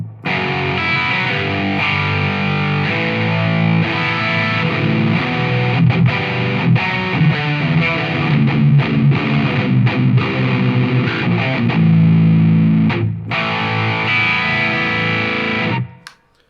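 Distorted electric guitar played through a pedal straight into an amp, loud sustained riffs and chords for about sixteen seconds with a brief break near the end, no speech.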